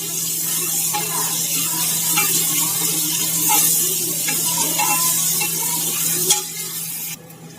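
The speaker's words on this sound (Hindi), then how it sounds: "और इसमें मैं डाल दूंगी 1 बड़े साइज की प्याज। अब इसे अच्छी तरह से भून लेंगे। आंच को अपनी तेज ही रखेंगे।" One large onion fries over high heat while it is stirred, a loud continuous sizzle with steady hiss and light scraping of the spoon throughout, easing at the very end.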